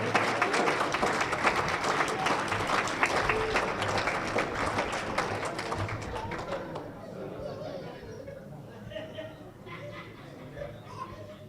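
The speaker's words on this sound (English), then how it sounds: "please give all of these finalists a big, big round of applause" Big round of applause from the audience for the finalists at the Michigan Auctioneers & Ringmen Championship, loud dense clapping mixed with crowd chatter, tapering off into murmuring voices and light laughter after about six seconds.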